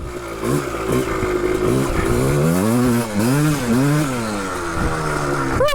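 A 1985 Yamaha Tri-Z 250 three-wheeler's two-stroke engine without its power valve revs hard, its buzzing ringing note rising and falling in repeated throttle blips close up, loud and continuous with no talk.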